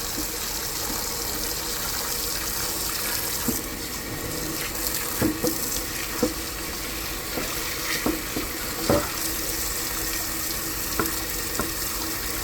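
Running water sprays over a resin 3D-printed part from a Stratasys J5 printer to wash off support material, a steady broadband rush with scattered clicks and splashes of handling throughout.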